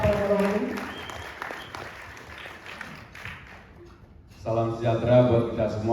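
Applause for Pramono at a community gathering in Cengkareng, clapping mixed with voices that fades away, followed by a speaker talking at close range.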